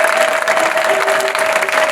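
A church congregation at a Sunday service claps together in dense, continuous applause, loud and close, with a faint steady tone running underneath.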